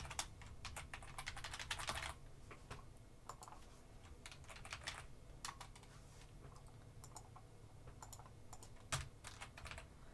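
Fingers tap steadily on a computer keyboard, quick clusters of light plastic clicks with short pauses between words, close and soft with no talk over them.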